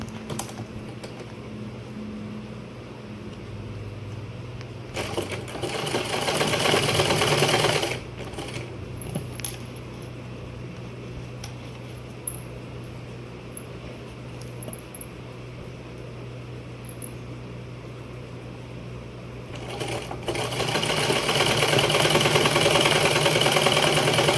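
Sewing machine stitching the neckline of a suit: a steady mechanical whir runs in several long bursts, each with a rapid needle clatter, loud and close.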